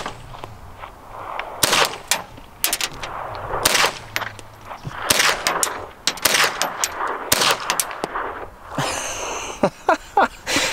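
Newly bought guns, including .22 rifles, fire outdoors in a string of sharp, loud gunshots at irregular intervals, some close together, with short echoing tails and a quick cluster near the end.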